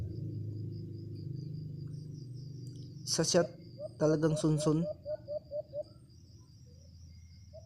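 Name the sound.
alimokon dove calling from a tree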